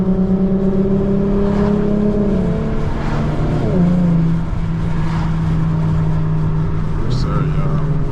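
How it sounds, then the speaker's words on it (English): An Infiniti fitted with coilovers and an aftermarket exhaust drones and rises in pitch while cruising, a loud steady engine note with gear-change dips and someone talking over it inside the cabin. "Sorry, exhaust sounds nice."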